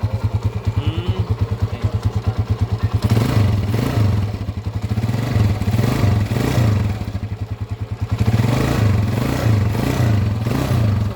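A smoking motorcycle with a stainless sidecar runs close by. Its engine keeps up a steady, rapid putter and clatter that swells and rises in revs partway through, loud and continuous, with no talk over it.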